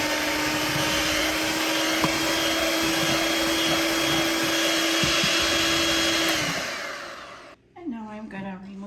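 Electric hand mixer beating sponge cake batter with oil added, a steady loud whirring drone that runs unbroken for about six seconds, then winds down and stops, followed by a brief voice.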